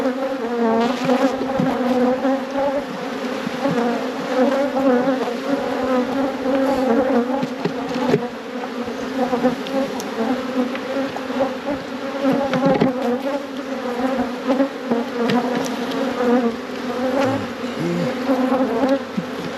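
Honeybees drone around an open hive during requeening with nucs, a dense, continuous buzz of many insects, close and steady, with individual bees whizzing past now and then.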